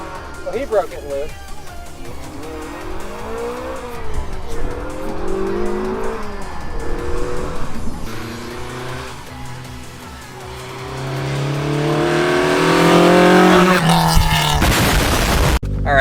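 A Levin car revs hard as its tires squeal and break loose, with the engine note rising and swelling louder toward the end while people talk excitedly over it.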